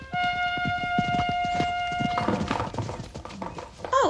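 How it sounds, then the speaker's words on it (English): A knight's white horse arrives in a forest clearing with a rapid run of hollow hoof clip-clops, followed by a sustained tone and a brief higher cry at the end. "a knight on a white horse has just appeared"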